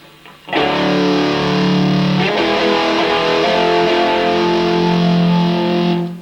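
A loud, heavily distorted electric guitar rings out sustained two-note chords in thirds, shifting to a new chord partway through before cutting off.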